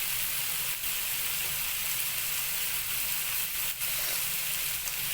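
Chicken liver and gizzard frying with cumin and chicken masala in a pan give off a steady, even sizzle that hisses continuously at close range, with no talking over it.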